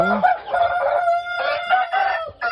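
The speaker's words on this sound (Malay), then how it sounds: "Semestinya memang ayam lah dalam ni kan." Shamo chickens crow and cluck inside a coop on a small ornamental poultry farm. The calls are loud and close, with a long, drawn-out crow over overlapping clucks and short bursts from several birds.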